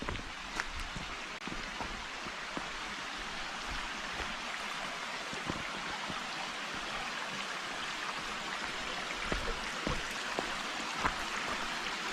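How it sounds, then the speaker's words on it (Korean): A valley stream flowing beside rural land in Gapyeong, a steady broad rush of water with scattered splashes and drips, even and unbroken with no talk. "본토지와 접해서 계곡이 흐르고 있습니다"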